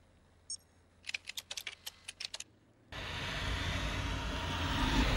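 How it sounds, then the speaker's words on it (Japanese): Rapid clicking keystrokes as a cat walks across a computer keyboard in the video game Stray, a quick irregular burst lasting about two seconds, followed abruptly by a loud rushing, engine-like ambient roar. "猫がキーボードに乗っかって、勝手に入力されてる。"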